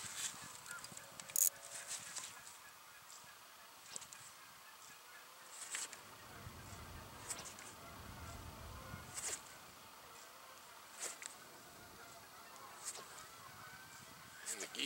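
Geese at a lake in December honk and squawk in scattered bursts from some distance over quiet open-air background, with faint voices now and then.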